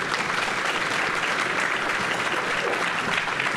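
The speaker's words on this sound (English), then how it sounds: "So let's all give them another round of applause." A crowd applauds students at a high school Y-Club candidate forum for the 2026 primary elections, with steady, dense clapping that holds at an even level throughout, close and fairly loud.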